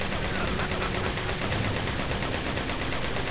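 Rapid automatic gunfire from enemies in Resident Evil 4 crackles continuously and densely over a loud, busy game soundscape, steady for the whole stretch without pauses.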